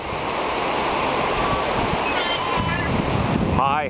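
Waves and surf wash steadily onto a beach, a constant broadband roar with wind noise on the microphone, while people talk briefly toward the end.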